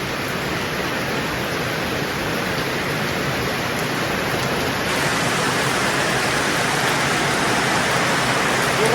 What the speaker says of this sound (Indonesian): Alhamdulillah hujan pemirsa